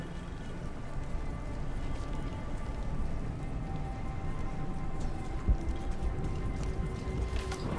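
Steady rain and storm wash from Shadow of the Tomb Raider DLC gameplay, a dense, even hiss of downpour running continuously at moderate level with a faint low thump partway through, no voices.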